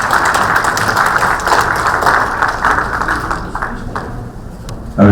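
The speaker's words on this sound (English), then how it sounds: "we have an applause for him, sir" Audience applause at a stage event honouring a police speaker, a dense, steady wash of many hands clapping that holds loud and even before thinning out toward the end.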